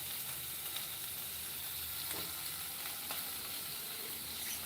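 An ingredient dry-roasting in a pan until it turns red gives a steady, faint sizzling hiss with occasional crackles. It stays even throughout, with no talking.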